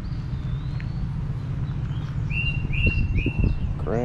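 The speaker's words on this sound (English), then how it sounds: "Lots of birds singing." Several birds sing outdoors at Columbus Belmont State Park near the Mississippi River, with a few thin whistled calls and chirps over a steady low rumble.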